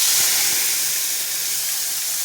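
Ginger, garlic, onion and green chili paste, along with black cumin, goes into hot oil on a gas stove and sizzles with a steady, loud, close hiss. A few soft low thumps sound near the start.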